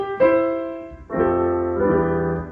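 Grand piano voice of a Yamaha CVP709 digital piano in a showroom, with a single struck note ringing and then two fuller chords sounding close and clear, each sustaining under the next.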